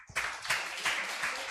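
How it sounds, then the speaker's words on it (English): An audience at the FutureWard Forum event for Karen Lin gives a brief round of applause, close, with a few surging waves of clapping packed into a second and a half, no voices. "Let's give Karen another round of applause."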